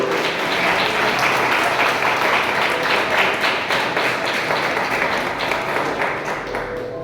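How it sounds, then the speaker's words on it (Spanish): A Bible study congregation breaks into steady, loud applause that holds for several seconds and then eases slightly toward the close. "Dale un fuerte aplauso a Dios."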